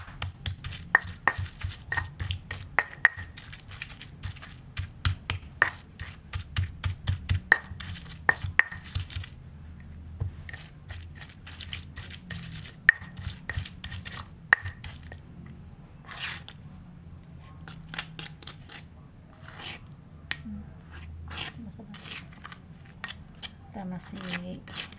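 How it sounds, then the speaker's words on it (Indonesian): Spices for fried chicken liver pounded and ground in an Indonesian stone mortar and pestle (ulekan), a run of sharp irregular knocks and crunches, close, under steady talking. "Nah ini saya menumbuk bumbunya, mengulek bumbunya untuk ati goreng ini."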